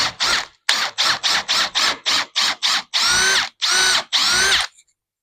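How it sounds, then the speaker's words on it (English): A power drill bores a hole with a 13mm bit while fitting hidden floating-shelf brackets, running in a rapid series of short bursts followed by three longer pulls, close and loud, with no talk. "Don't drill all the way down."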